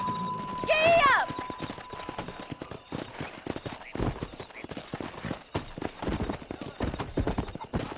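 A horse whinnies briefly, then hooves drum in a fast galloping rhythm under steady game ambience, in the video game Red Dead Redemption.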